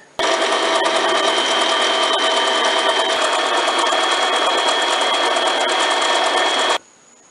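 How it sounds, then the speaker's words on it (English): A drill runs steadily while boring a 2-inch-deep hole lengthwise into a metal rod, a loud continuous whirring grind that stops abruptly near the end. "I've got the hole drilled out to 2 inches deep."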